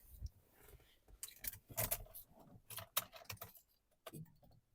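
Car keys jangle in several quick bursts of light metallic clinks, some close and fairly loud, with brief quiet gaps between them during a look at a 2013 Nissan Qashqai diesel with two keys.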